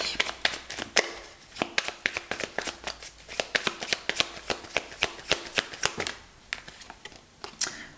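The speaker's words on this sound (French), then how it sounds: "j'aimerais bien tirer d'autres cartes" Tarot cards being shuffled and drawn by hand, a quick run of crisp, snappy riffles and slaps close to the microphone, repeating in an uneven rhythm throughout.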